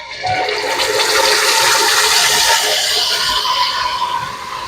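Yogurt and spice mix poured into a hot frying pan of browned beef kofta, giving a loud, steady, close sizzling hiss that swells quickly and holds for several seconds.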